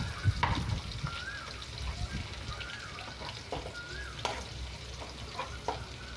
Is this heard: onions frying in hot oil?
yes